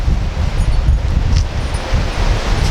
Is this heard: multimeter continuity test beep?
no